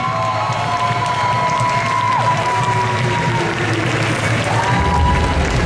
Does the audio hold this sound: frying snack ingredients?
no